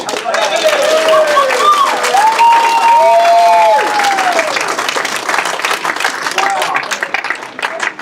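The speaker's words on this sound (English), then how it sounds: "Another big round of applause, Greg Bryden, everyone!" Sustained audience applause fills a live event room after contestant Greg Bryden's performance, a dense steady wash of clapping with some cheering, under a melodic tone and faint talking.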